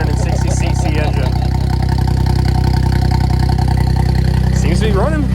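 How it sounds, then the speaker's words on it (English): A 660cc three-cylinder engine in an N2 kit car idles loud and close with a steady, even low thrum, and a voice speaks briefly over it near the end. "Sounds like all 3 cylinders are firing like they should be."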